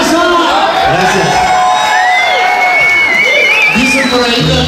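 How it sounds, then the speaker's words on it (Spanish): Festival audience at a Tejano conjunto show cheers, whoops and claps loudly and continuously close by, with shouted voices and a bright whistle-like cry rising above the crowd noise. "Un aplauso a la leyenda Rubén Garza."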